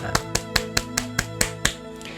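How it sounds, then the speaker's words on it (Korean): A church congregation claps in an even, steady rhythm, about nine sharp claps in two seconds over a soft background hum. "우리 하나님께 감사의 박수 올리겠습니다."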